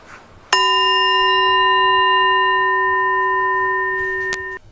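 A metal singing bowl, used as a paranormal cleansing tool, rings out with one struck tone that sustains steadily for about four seconds before fading, clear and close with no talk over it.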